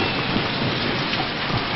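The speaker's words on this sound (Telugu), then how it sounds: "వర్షం వస్తుంది కదా" Steady, close rainfall makes a dense, even hiss with no breaks and no voices.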